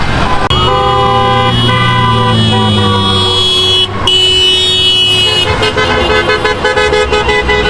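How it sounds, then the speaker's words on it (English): Heavy traffic streams through a high-traffic intersection during a student ICE protest walkout, with cars driving fast. The close, loud, continuous road roar is punctuated by blaring car horns and tonal honks, with no talk. "you're just seeing a lot of traffic, and the conditions seem to be getting worse, more dangerous, with certain people just driving very fast."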